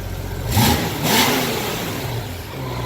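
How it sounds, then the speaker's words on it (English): A warm GL1500 motorcycle engine revs up sharply twice in quick succession, then settles back into a steady idle, close and fairly loud. "The engine is almost warm here, and you can see that it's got very good response."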